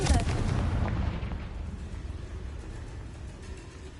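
A Confringo blasting spell exploding in Hogwarts Legacy, a loud close boom whose rumbling roar decays steadily over a few seconds, with no talking.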